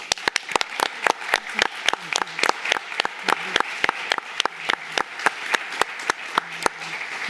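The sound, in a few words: audience applause for debaters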